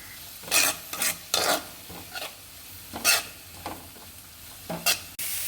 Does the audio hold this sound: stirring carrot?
yes